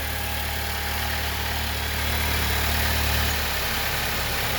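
A new truck's engine idling as it warms up, a steady low rumble and hum that rises slightly before the idle drops, close and continuous with no talking.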